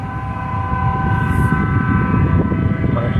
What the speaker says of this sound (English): Here a train coming